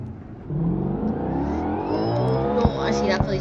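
A car engine in the driving game road rage simulator 2022 hums and revs steadily with rising harmonic whine as the car turns, punctuated by a couple of sharp clicks near the end.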